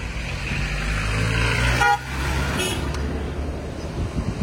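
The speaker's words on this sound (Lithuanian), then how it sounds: "Pypsina man čia jie." Car horns blare and toot over steady, loud road traffic noise in Mauritania, with one long honk and shorter beeps nearby.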